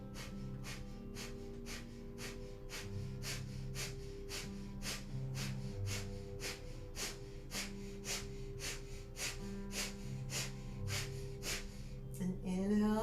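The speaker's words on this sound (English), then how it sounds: "we'll begin breath of fire." Rapid, rhythmic breath-of-fire yoga breathing, sharp forceful exhales through the nose at a steady quick pace, repeated over a soft sustained musical drone, ending with a longer breath.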